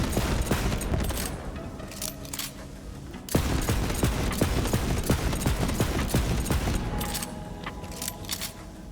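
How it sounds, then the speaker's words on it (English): Rapid rocket-pistol fire from a Western-themed hand cannon in Borderlands 3, dense crackling shots and bursts running steadily throughout with a sharp surge partway, no talking. "You're just firing at loads of rockets."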